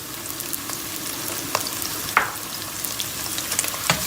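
Tomato paste sautés with onions in a pan: a dense, close crackling sizzle with a few sharper scrapes from stirring and no speech.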